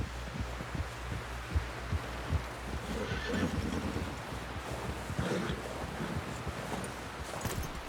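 A horse in Red Dead Redemption 2 snorts and whinnies low amid a steady rumbling game ambience, with soft hoof-like thuds and a faint hum underneath.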